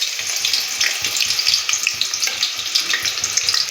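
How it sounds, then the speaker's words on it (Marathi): A large chopped onion hits hot oil in a pot for Kolhapuri misal, giving a dense, bright, continuous sizzle with crackling bursts, close and loud throughout. "तेल गरम झाल्यावर एक मोठा आकाराचा चिरलेला कांदा टाकूया।"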